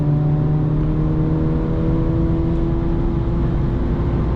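A 2017 Mercedes A45 AMG rated at 423 hp cruising at around 200 km/h, heard from inside as a loud, steady drone of engine and road roar holding constant tones without a break or any talk.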